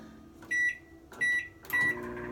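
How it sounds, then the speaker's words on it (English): A microwave oven warming milk gives a steady low hum. Three bright tonal bursts cut in about half a second apart, loud and close, in a quiet room. "I listen to the hum of the microwave and the sounds of the microwave"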